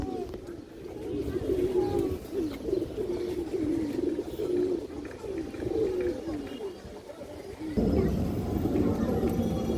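Domestic pigeons coo in soft, repeated rolling calls close by, with someone talking over them and a brief louder burst near the end.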